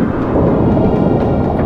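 A Lightning Strike spell cast in the video game Return to Krondor lets out a loud, sustained rumbling crackle, like close thunder, filling the whole short stretch without a break.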